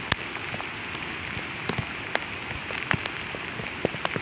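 Steady rain pours down during a heavy downpour near a riverside walling project, a dense even hiss with scattered louder drops pattering close by, no voices.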